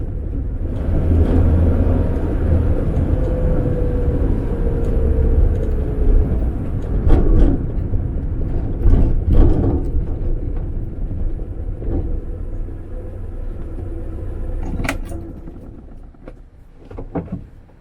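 A 1950s Standard 10 car with a new stainless steel exhaust driving along, a steady low engine rumble and road noise from inside, with occasional bumps and rattles, fading slightly near the end.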